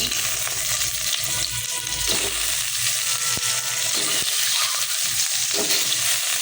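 Eggs fry in hot oil seasoned with turmeric and salt in a kadai, a loud, close, continuous sizzle with occasional stirring scrapes and clicks, and no voices.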